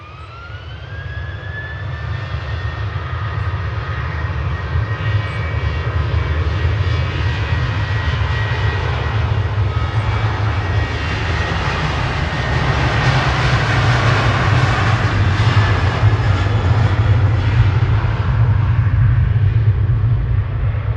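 Ryanair jet airliners at Manchester Airport at dusk, a deep, steady, continuous engine rumble that builds slightly louder over about twenty seconds, with a rising whine early on and no voices.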